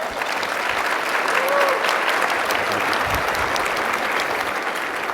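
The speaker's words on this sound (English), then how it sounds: "Let's start with a round of applause." A conference audience gives sustained applause, a loud, even wash of clapping from many hands, steady throughout with a faint voice at one point.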